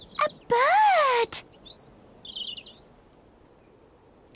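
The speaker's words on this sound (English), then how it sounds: "It's a robin." A robin sings in a children's animated episode, with a few short chirps and a clear rising-falling whistled note, then fainter trailing tweets against near silence.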